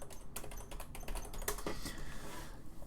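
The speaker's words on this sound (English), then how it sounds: "I'm just typing in the word sacrifice" Computer keyboard keys clatter in quick irregular bursts of clicks, close and fairly soft, with a brief louder flurry midway and no speech over the typing.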